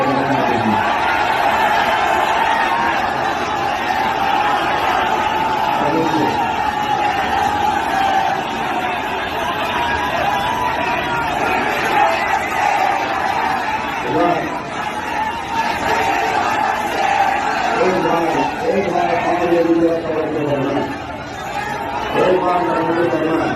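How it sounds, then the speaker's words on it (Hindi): Large, dense crowd gathered outside a police station, a loud, continuous roar of overlapping voices and shouts with occasional whoops and surges throughout, close and filling the scene. "कितनी ज़बरदस्त भीड़ थाने के बाहर इकट्ठा है"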